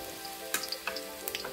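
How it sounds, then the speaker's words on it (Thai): Soft, steady sizzle of garlic frying in oil, with a few light clicks and crackles popping up over the constant hiss. "น้ำมันลงไปพอประมาณค่ะจากนั้นแล้วก็นำกระเทียมลงไปเคี่ยวนะคะ"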